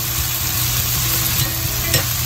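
Pig ears frying in a pan over high heat, a steady loud sizzle with stirring scrapes running throughout, no voices.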